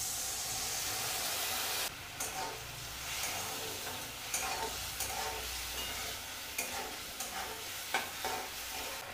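Tomato, chilli and soy sauce mixed with water hits a hot pan of chilli potato, setting off a loud hiss and steady sizzle, followed by scraping stirs and spatula clicks as the frying settles.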